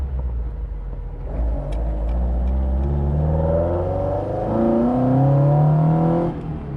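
A Fiat 124 Sport Coupe engine idles with a deep rumble, then revs up loudly in rising surges before easing off, close and prominent.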